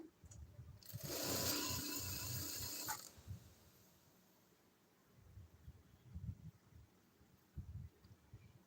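A sewing machine stitching a six-panel kameez runs in a brief mechanical whirring burst lasting about two seconds, then quiet handling and soft clicks follow.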